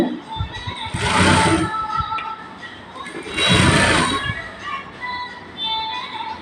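A sewing machine stitches a blouse in two loud, close bursts of rapid whirring, each lasting about a second, with a shorter third run at the end and someone talking around them.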